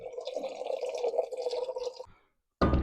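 Water pours steadily with a bubbling, splashing stream, then stops briefly before a loud thud or clatter.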